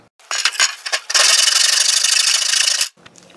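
A short length is cut off for a homemade battery ring terminal, a few brief scraping strokes and then a loud, sustained grinding rasp for about two seconds, close up, before it stops.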